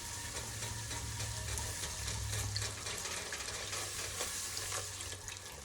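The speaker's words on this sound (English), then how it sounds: "Now I'm going to whisk in 1 cup of milk." Whole milk is whisked into a butter and flour roux in a pan, a quiet continuous bubbling sizzle with faint whisk scraping and a low hum beneath.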